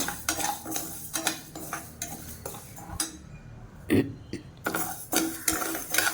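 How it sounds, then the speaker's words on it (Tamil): Moong dal dry-roasting in a pan, stirred with a utensil that scrapes and clinks against the metal in irregular bursts, with faint light sizzling between strokes. "இதில் வந்து ஒரு 50 கிராம் பாசிப்பருப்பு இது சேர்த்துட்டு இதை வந்து நல்லா செவக்க வறுத்துக்கணும்"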